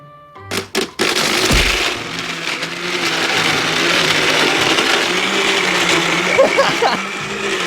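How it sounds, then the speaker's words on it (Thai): An electric blender whirs steadily as it blends a mango smoothie with syrup, loud and close, after a few sharp knocks at the start as it kicks on. "คราวนี้ก็ปั่นนะครับ"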